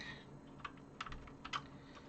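Several quick, light key clicks from typing on a Commodore 64 keyboard during a repair, sparse and fairly close against a quiet background hum.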